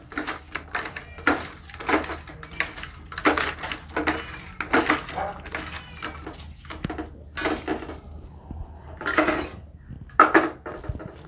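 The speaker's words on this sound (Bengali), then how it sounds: "এবার খুব ভালো করে এটাকে মাখিয়ে নেব।" Koi fish are rubbed by hand with salt and turmeric in a bowl, making irregular close squelches, scrapes and light clinks against the bowl, with short pauses between bursts.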